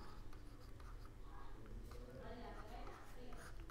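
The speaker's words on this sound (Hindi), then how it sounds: "मैं लिखता हूँ" Pen scratching across paper by hand during a Hindi-language lesson, a faint, steady rustle with soft strokes and a quiet background hum.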